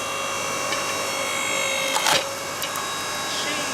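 Firewood logs split by a log splitter, a steady mechanical hum with a sharp cracking burst of splitting wood near the middle and a few smaller creaks after.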